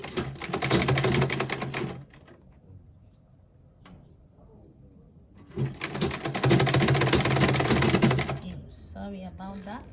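A sewing machine stitching cargo pants runs in two loud, close bursts of rapid mechanical whirring, separated by a quieter pause with faint handling, and a voice begins speaking at the end.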